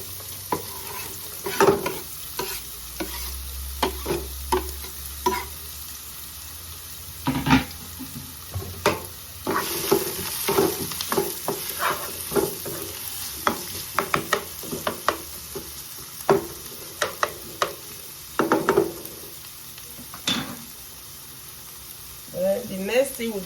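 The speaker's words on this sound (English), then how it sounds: "Then the garlic and the onions, we slice everything to the pan." Sliced garlic and onions hit hot oil in a pan for a Bolognese ragù, sizzling steadily with repeated stirring scrapes and clatter over about twenty seconds, with someone talking now and then.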